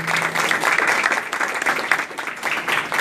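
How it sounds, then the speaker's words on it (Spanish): An audience at a museum exhibition opening gives a loud, steady round of clapping that carries on evenly for about three seconds. "yo quiero pedir un fuerte aplauso para este"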